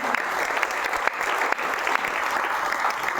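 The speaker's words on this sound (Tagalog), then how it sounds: "Palakpak para sa inyo." A church congregation at a sermon claps, a dense burst of applause that stays fairly steady for a few seconds.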